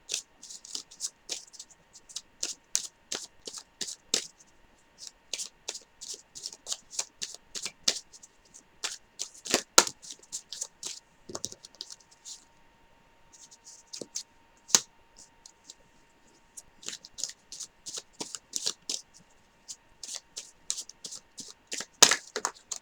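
Tarot cards being shuffled for a general love reading, with a close, faint series of rapid crackling card snaps in bursts with short pauses, no talk.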